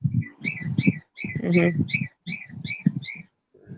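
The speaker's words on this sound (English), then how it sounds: "That is the cockatiel." A pet cockatiel chirps in a rapid series of bright, repeated calls, close and fairly loud, with a brief human murmur mixed in.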